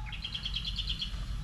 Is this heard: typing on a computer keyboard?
no